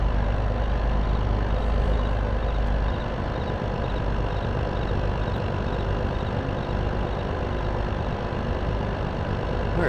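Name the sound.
truck engine in video game Farming Simulator 22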